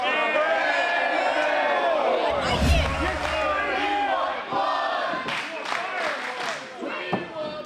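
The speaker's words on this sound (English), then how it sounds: "Crowd is chanting for blood." A wrestling crowd in an arena chants and roars loudly and without a break, with rising shouts and a few sharp peaks throughout.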